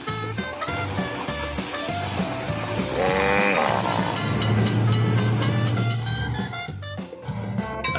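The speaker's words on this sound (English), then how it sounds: "Quick, train is noticed." An approaching train in the Railroad Crossing Train Simulator mobile game blares its horn midway through a dense, loud mix of rolling rumble and game sounds.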